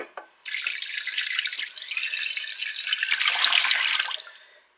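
Tap water runs steadily into a dishwasher dosed with Ajax, a continuous splashing hiss that starts abruptly, holds for about four seconds and then fades out.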